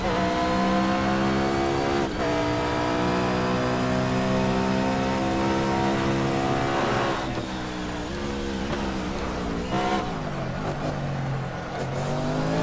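A loud race car engine in the racing video game Project Cars roars continuously at high revs, its pitch dipping and climbing again through several gear shifts.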